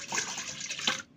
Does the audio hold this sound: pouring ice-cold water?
yes